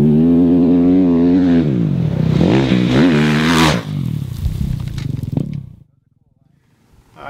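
A 2016 KTM 450 XCF dirt bike modified into a desert rally racer revs hard, its engine note rising and falling in loud close sweeps before cutting to near silence.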